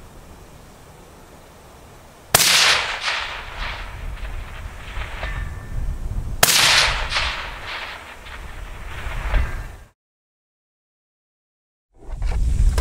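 Two sharp gunshots from a semi-automatic firearm at a shooting range, each a loud crack trailing into a long echoing rumble, spaced about four seconds apart, followed by a brief silence.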